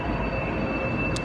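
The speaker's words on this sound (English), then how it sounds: "this is Nanjing North Railway Station." A train at Nanjing North Railway Station produces a steady rumble with a high-pitched wheel squeal, a brief, continuous burst of railway noise.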